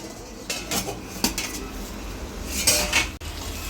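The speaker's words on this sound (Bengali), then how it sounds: "এবার আমি ঢাকাটা তুলে নেবো" Lid lifted off a cooking pot of jackfruit chicken curry, sharp metallic clanks and scrapes of metal on metal in a few separate bursts over a low steady background, with no talk.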